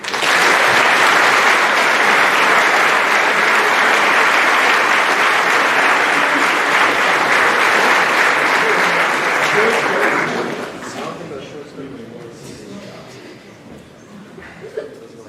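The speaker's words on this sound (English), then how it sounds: "So a big round of applause for Josh Aarons and Trey Marcel." Sustained applause from an athletic awards night audience, a dense wash of clapping holding steady for about ten seconds, then dying down to scattered claps and quiet room murmur.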